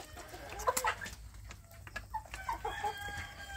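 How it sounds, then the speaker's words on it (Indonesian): Young free-range village chickens being raised in a grow-out pen cluck and chirp in short, scattered bursts, fairly close but soft, over a low background hum with no talking. "anak ayam kampung saya ini ada di bagian pembesaran"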